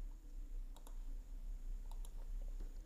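Keys pressed on a computer keyboard while working in a spreadsheet, a few faint soft clicks in pairs over a quiet room hum.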